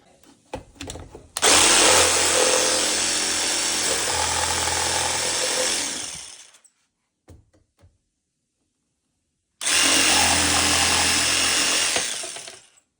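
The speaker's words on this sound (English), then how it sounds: "So we're gonna just cut that out with a jigsaw." A jigsaw buzzes loudly through a butcher block countertop for several seconds, stops, then cuts again in a second long burst.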